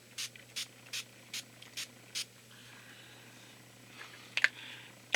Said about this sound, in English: makeup setting spray that I use in the hot weather